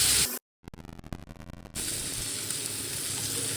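Bhola fish frying in a pan of oil, a steady crackling sizzle broken by a brief gap and a stretch of rattling clatter before the hiss resumes.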